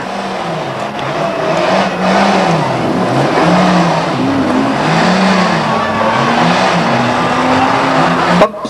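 Banger racing cars at Ringwood Raceway in 1998, engines revving and wavering steadily with a loud continuous roar, close and dense, a brief thump near the end.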